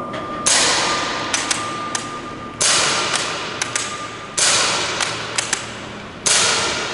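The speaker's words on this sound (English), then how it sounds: "that's as fast as you can cycle that bolt, you can release the shots" A Mosin–Nagant M1944 CO2 air rifle is fired rapidly: four sharp, loud shots each followed by metallic clicks and clacks of the bolt being cycled, repeating in a quick, even rhythm with no talk.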